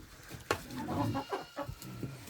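Backyard hens clucking near and clear, a run of short, uneven throaty clucks with one sharper squawk early on, no talking.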